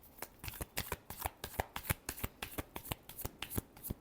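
Tarot cards are shuffled in a quick, steady run of crisp riffling flutters, close and soft, repeating rhythmically with no talk over them.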